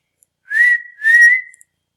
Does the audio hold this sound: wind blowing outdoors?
no